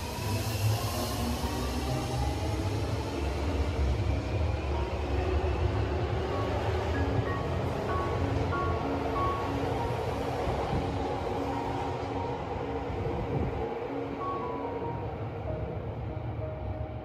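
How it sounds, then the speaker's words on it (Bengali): A train in Yokohama, Japan pulls away and gathers speed, a constant close rumble of running gear with faint whining motor tones rising and shifting in pitch, no voices. "তো আমাদের ড্রাইভার সাহেব সমস্ত রকম সেফটি, সমস্ত রকম রুল মেনটেন করে চালু করে দিল ট্রেনটাকে।"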